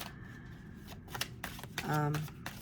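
Tarot cards riffle and slap together in a short, close shuffle over a few seconds. A voice speaks briefly in between.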